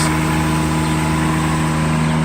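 A Mercedes S600 engine runs with its throttles taken off the intake manifold, giving a loud, steady mechanical drone with tonal hum close by and no voices.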